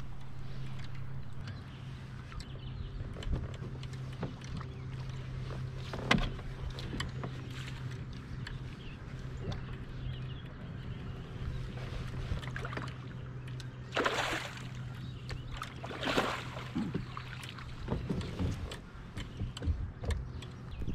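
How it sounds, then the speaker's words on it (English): A motorboat engine hums steadily at a distance on the Susquehanna River at Conowingo Reservoir, with a few splashes and bumps rising briefly over the low drone. "You gotta love it when the camera boat shows up"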